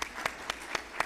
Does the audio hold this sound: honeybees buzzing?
no